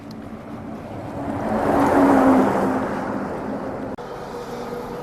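A vehicle rushes past on a roadside, its whoosh swelling from a distance to a loud peak and fading away over a few seconds, with a steady background hum and no talk.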